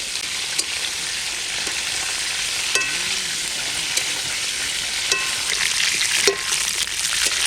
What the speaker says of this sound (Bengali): ফুলকপি ভাজা হয়ে গেছে, এখন তুলে নেবো।